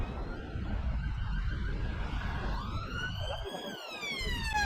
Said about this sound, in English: you just saw the ambulance going down the wrong side of the road